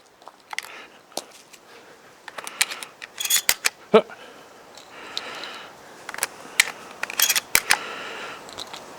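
Shotgun shells clicking and snapping into the magazine tube of a Benelli M4, a series of irregular sharp metallic clicks up close, with some handling rustle.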